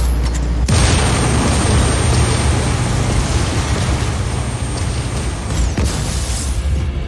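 Generator blowing up in Just Cause 4: a sudden loud blast, then a sustained heavy roaring rumble that fills several seconds before a second sharp burst near the end.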